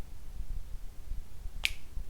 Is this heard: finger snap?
yes